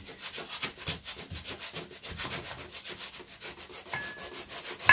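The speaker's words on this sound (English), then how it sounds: "If you go with the grain, it doesn't sand as much, but if you go horizontally opposed to the grain, it takes off the most." A sheet of sandpaper is worked by hand diagonally across the grain of a large wooden yoyo, making steady back-and-forth rubbing strokes in an even rhythm, close up, with no talk.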